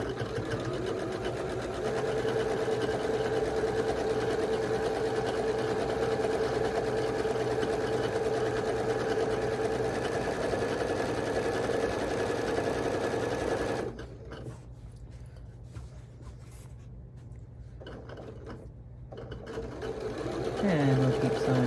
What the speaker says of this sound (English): And we'll keep sewing to the end,